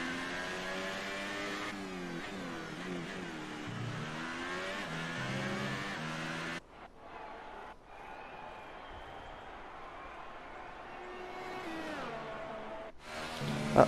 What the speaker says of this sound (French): on voit que Max Verstappen commence à s'élancer en piste